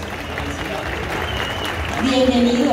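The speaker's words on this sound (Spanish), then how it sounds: "Un fuerte aplauso" An audience applauds to welcome David Shepherd onto the stage at the opening of Expo Moto 2019, steady clapping that grows louder toward the end while a presenter speaks over it.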